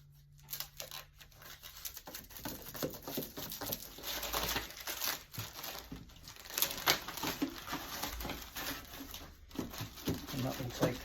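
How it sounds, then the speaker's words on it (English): Protective plastic film is folded and peeled back from the sides of an action figure display case, giving a steady run of close crinkling and rustling with soft handling noises and no other sounds. "I'm actually going to just fold back this protective film on the sides."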